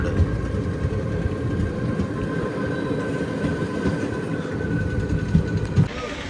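The Narsapur Express passenger train runs through a cold, foggy morning near Akividu, a steady close rumble of wheels and carriages with a few sharper knocks near the end.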